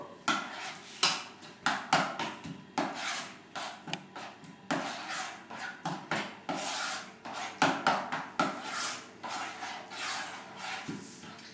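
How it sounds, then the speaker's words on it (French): Zucchini flan batter mixed in a bowl, producing repeated rhythmic scraping and rubbing strokes, close and fairly quiet, with no talking. "Mélangez de nouveau."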